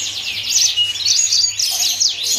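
A Mozambique canary sings a bright, rapid, continuous trilling song, close and loud, with no voices.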